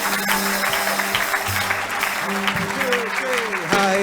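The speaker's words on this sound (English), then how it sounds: "Keep your applause going, please, for our Outstanding Lifetime Achievement Award, Rita Newmark." Audience applause fills a volunteering awards ceremony for a lifetime achievement honour, a steady, dense clapping that runs the whole time, with a voice speaking over it.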